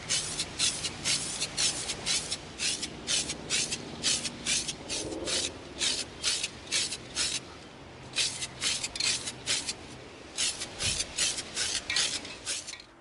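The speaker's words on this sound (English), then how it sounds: "Sprayed it with our flat antique nickel" A spray can coats EVA foam lightsaber hilts with flat antique nickel paint in a long run of short, rhythmic hissing bursts, close and fairly loud, with brief pauses between groups.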